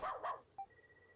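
A dog barking in the video game Ys: Memories of Celceta, two quick close barks followed by a brief electronic tone.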